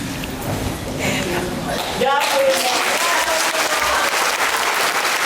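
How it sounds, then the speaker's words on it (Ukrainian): Loud applause from a theatre audience after a performance fills the room, steady clapping that continues throughout with a brief shift midway, dense and close. "я розчулилась, коли ці оплески почула"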